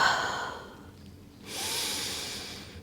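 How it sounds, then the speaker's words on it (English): A person inhales during a Pilates mat exercise, with one soft airy breath drawn in near the microphone, a short pause, then a longer breathy rush that holds to the end, with no talk. "Inhale."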